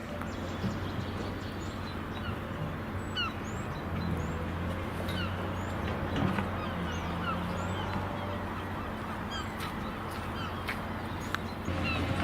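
Seagulls near an industrial estate give scattered, fairly distant cries over a steady low outdoor rumble that runs throughout.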